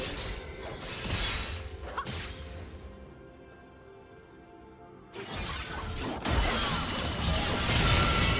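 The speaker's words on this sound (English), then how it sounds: "Blue team's turret has been destroyed." A turret crumbling in League of Legends, heavy shattering crashes and rumbling debris that break off, pause through a quieter stretch, then return loud and dense.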